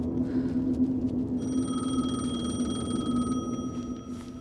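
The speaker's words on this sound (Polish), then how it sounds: "Już to dzwoni." A telephone rings in the video game Alan Wake 2, a steady electronic ringing tone sounding over a low ambient rumble, fading at the end.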